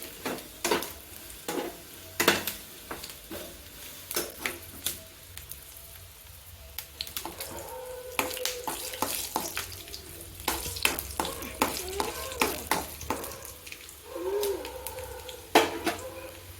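Peanuts sizzle and crackle in very hot oil for a tempering for capsicum curry, with repeated sharp scrapes of a spoon stirring the pan up close throughout.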